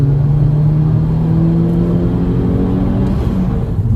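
Tuned 270 bhp Mk5 Golf GTI, a Stage 2 car, pulling hard in third gear on wet country roads: a steady, loud engine drone with rising harmonics as revs climb, continuous throughout with no talk.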